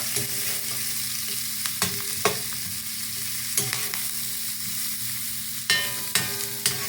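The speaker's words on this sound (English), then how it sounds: "What I'm cooking this in is my 12-inch carbon steel skillet that I adore." Food sautés with a steady sizzle in a 12-inch carbon steel skillet as okra, corn, red pepper and bacon cook, with a utensil clacking and scraping against the pan every second or so, close and alone.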